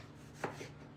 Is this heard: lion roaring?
no